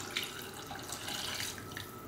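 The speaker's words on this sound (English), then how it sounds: "I'm then going to pour my stock." Vegetable stock is poured into a pan in a home kitchen, a steady close splashing gush of liquid that holds its level from start to finish, with no talking.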